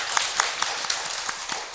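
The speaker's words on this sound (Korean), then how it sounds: "우리 격려의 박수를 보내겠습니다" A church congregation claps in encouragement during a Sunday service, with scattered individual claps standing out over a soft continuous patter of hands, fairly light and brief, with no talking.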